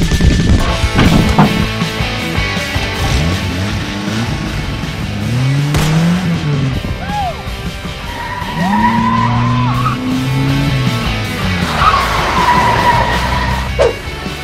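A car on the drive to the market, its engine loud and close as it accelerates and revs in repeated rising and falling sweeps, with brief tyre squeal and no talk.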